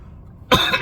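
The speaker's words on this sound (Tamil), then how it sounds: "இருமல்" A single sharp cough bursts out close and loud after a quiet stretch, with a rough, breathy tail and a second push at the end.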